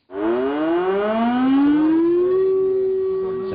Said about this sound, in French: à la Faute-sur-Mer, on a enfin décidé de mettre en place des sirènes